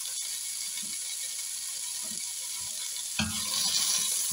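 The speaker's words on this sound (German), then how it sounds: "Und dünsten das auch an" Carrots, onions and leeks sautéing in a soup pot give off a quiet, steady sizzle, with soft stirring scrapes and a louder burst of frying near the end.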